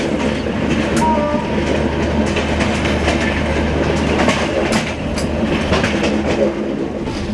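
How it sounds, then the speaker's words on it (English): An early-morning passenger train in India runs on the rails with a loud, steady rumble and rhythmic clickety-clack of wheels over joints, heard from on board with occasional squeals. "We get ready to take our early morning train to a state which is touted to be the decider."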